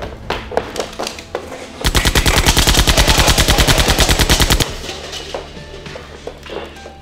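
A burst of rapid-fire Nerf blaster shots, a dense run of sharp clattering pops lasting about three seconds, loud and close, framed by quieter handling noises before and after.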